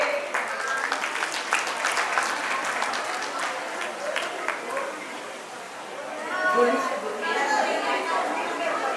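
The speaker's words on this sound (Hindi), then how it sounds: "आप इनके लिए खास तालियां मारिए" Applause fills the hall at a school annual day event, a steady wash of clapping from a seated audience, softer in the middle and swelling again toward the end, with some chatter underneath.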